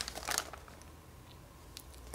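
Sticker sheets being handled, a quiet burst of crinkling plastic-like rustle near the start, then faint scattered crackles.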